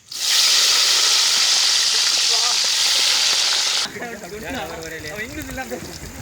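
Loud hissing sizzle of salted eggplant frying in hot oil, steady for several seconds, then dropping to a softer crackle as a voice talks over it.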